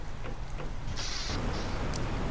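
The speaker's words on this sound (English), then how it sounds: "We've got quite the rain going on out here, man." Rain in the video game Planet Crafter falls as a dense, steady hiss with low rumbling underneath and a brief brighter whoosh partway through.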